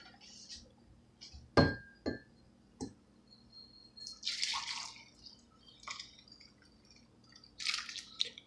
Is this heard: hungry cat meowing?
no